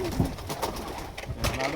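A Tiger Grizzle racing pigeon coos in soft, low repeated notes close by, with someone talking quietly over the calls.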